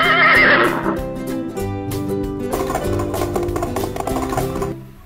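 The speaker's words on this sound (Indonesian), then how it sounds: "Wow, ini ternyata kuda" Toy horse giving an electronic neigh, a loud close whinny that opens high and shrill, then settles into a lower whinnying stretch before cutting off.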